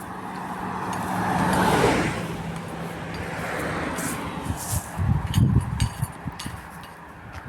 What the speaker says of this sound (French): Il y a gavé de circulation, je suis à côté d'une départementale. Et il y a même les camions quoi qui passent.